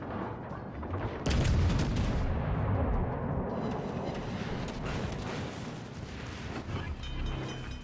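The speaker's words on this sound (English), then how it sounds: "So I'm gonna turn my guns. Fire." Heavy warship guns boom in World of Warships: Legends, a loud rolling artillery barrage with a sharp onset, the rumble sustained and slowly fading.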